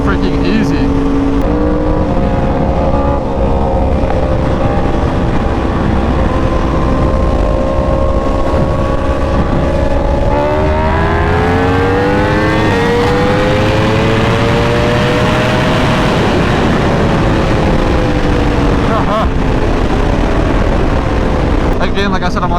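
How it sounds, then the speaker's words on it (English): A Yamaha R1 sport motorcycle on a highway, its engine loud and close with pitch climbing and dropping through rev-matched gear changes, all over heavy wind roar. "rev matching on the R1 sounds so good"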